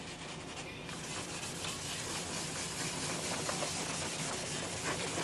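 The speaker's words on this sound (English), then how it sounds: "we're sanding across. We're not sanding with it, kind of across in a circular motion" Hand sanding over paint with a circular motion, knocking down ridges: a steady, close, dry rubbing hiss that continues evenly throughout with no talking.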